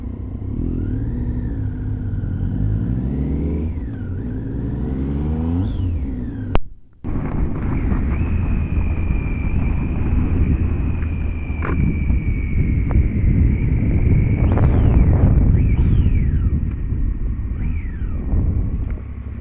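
A 2012 Triumph Street Triple 675R being ridden on a test ride: a loud engine note rising and falling through the revs over heavy wind rumble, with a brief dropout partway through, and no talking.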